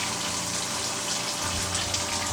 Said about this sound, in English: Flood coolant on this works pretty well. Could probably use a stronger pump, but it's adequate so far.